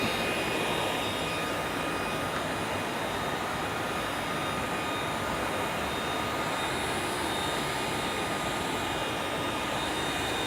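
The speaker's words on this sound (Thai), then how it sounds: "ในระยะที่เชื่อมอยู่นะครับ ก็เราสามารถ ปรับเครื่องนะครับ ขยับเครื่องให้แนวเชื่อมมันตรงได้นะครับ" A Leister Twinny T5 hot-air plastic liner welding machine runs as a steady, loud, even blowing roar with a faint high whine, constant from start to finish with no talk.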